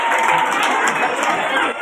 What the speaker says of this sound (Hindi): ताली बजाए, जोरदार ताली बजाइए।